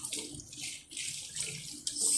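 Steady water streams from a tap into a sink, a continuous hiss that swells and dips slightly, close by and alone, with a brief louder surge near the end.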